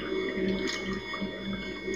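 Water in the horror video game Afraid of Monsters gives a soft, continuous sloshing and trickling over a low, humming game ambience for about two seconds.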